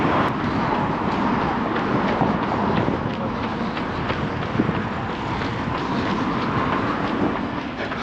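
A train rumbles through a large underground station in Berlin, a dense steady roar with faint rhythmic clatter that stays loud and even throughout, with no voices over it.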